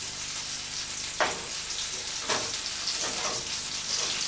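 Onions sizzling in a frying pan, a steady hiss broken by a few louder scrapes and clatters as they are stirred, close and without talk.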